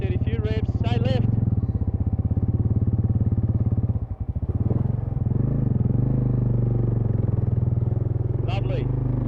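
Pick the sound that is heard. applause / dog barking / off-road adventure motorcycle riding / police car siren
off-road adventure motorcycle riding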